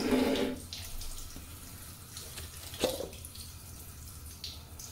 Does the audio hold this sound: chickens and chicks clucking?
no